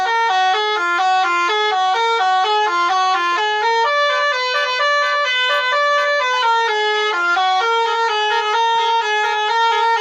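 Basuri telolet bus horn playing a loud, continuous multi-tone melody of stepping harmonic notes for the full ten seconds, with no talk over it.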